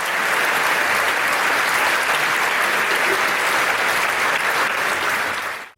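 Thunderous, continuous ovation from a concert audience in a Vienna hall after the performance, dense, even clapping that fills the space before cutting off abruptly at the end.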